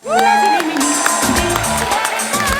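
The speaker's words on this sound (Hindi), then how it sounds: "जोरदार तालियों से स्वागत कीजिए मिस्टर संजय कपूर साहब" A studio audience cheers and claps loudly for celebrity guest Sanjay Kapoor's entrance on a Hindi TV talk show, with whoops and shouts layered over steady applause throughout.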